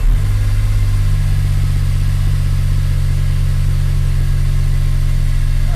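A car engine cranks and catches, then settles into a loud, steady, low idle that runs unbroken, with no voices.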